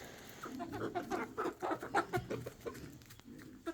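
Egg-laying chickens cluck in a series of short, uneven bursts close by in a farm pen, with a faint rustle beneath.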